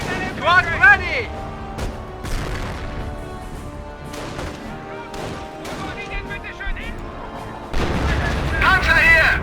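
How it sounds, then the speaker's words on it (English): Gunfire and heavy artillery booms in the WWII strategy game Company of Heroes, irregular blasts and rumbles rolling through the battle while shouted soldier voice lines play over them, ending with a louder, denser barrage. "They're firing at us!"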